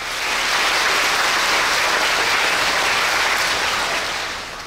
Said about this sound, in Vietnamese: những tiếng vỗ tay át hết những tiếng xe cộ hay tất cả những tiếng động ồn ào chung quanh